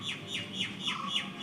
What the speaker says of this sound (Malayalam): ഏതെല്ലാം തരം കിളികളുടെ ശബ്ദങ്ങളാണ് കേൾക്കുന്നതെന്നറിയാമോ?